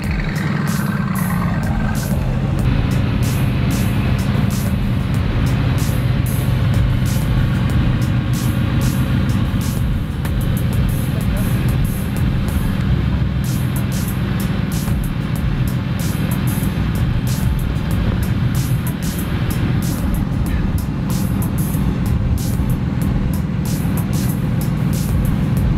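A Mercedes-AMG GT C Edition 50 Coupé on a race track, its engine running loud and steady close by for the whole stretch, a continuous deep rumble with no voices.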